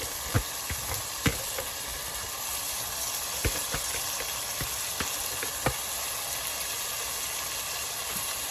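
Mixed masoor and moong dal frying in a pan, a steady close sizzle with scattered sharp crackles and pops throughout.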